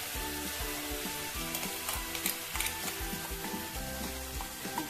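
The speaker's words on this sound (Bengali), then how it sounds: "কাজু বাদাম পেস্টের যে মিশ্রণটা এটা দিয়ে দিলাম।" Cashew paste mixture added to a sizzling pan for navratan curry brings a steady sizzle and fry, heard over strong background music throughout, with no voice.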